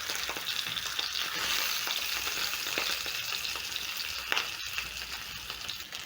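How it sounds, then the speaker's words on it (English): Four smokie sausages fry slowly in a pan over low flame, giving a continuous close sizzle with occasional stirring scrapes. "I'll add the smokies in my pan, and over low flame I'm going to let my smokies slowly cook."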